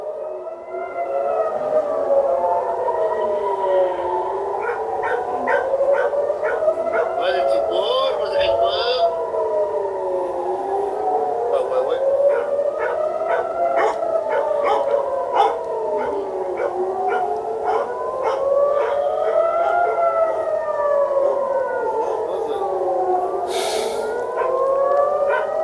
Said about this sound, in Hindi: मतलब हर तरफ सायरन की आवाज है।